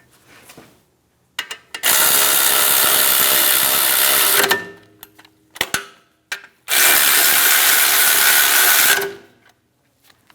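Ratchet wrench driving bracket bolts on a 2007-2014 Cadillac Escalade during parking brake shoe work: two long, loud bursts of rapid ratcheting clicks, very close, separated by a few sharp clanks and brief pauses.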